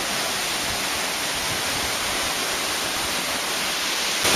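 The Curug Puraseda waterfall at Leuwiliang roars steadily and loudly, a dense unbroken rush of falling water close by with no voices over it.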